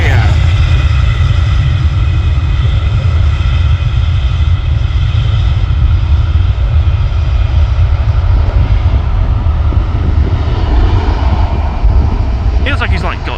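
An EasyJet airliner departing Manchester Airport, its engines a loud, steady jet roar that holds throughout, heard from an airport viewing area.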